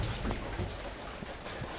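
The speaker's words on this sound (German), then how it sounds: "Es regnet wie aus Kübeln" Heavy rain pouring down steadily outdoors, a dense, continuous wash of noise with no voices.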